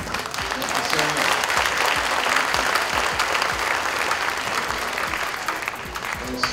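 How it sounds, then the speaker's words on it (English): An audience at a 2015 jazz festival breaks into broad, sustained applause that fills the space evenly for several seconds, a thick wash of clapping with no music. "And once again, I mean, a round of applause"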